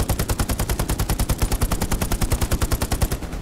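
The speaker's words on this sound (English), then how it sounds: "I want to run directly in front of the machine gun fire!" Machine gun fire in the video game Hell Let Loose rattles in one long, steady, rapid burst of evenly spaced shots, loud and close with no pauses or talk.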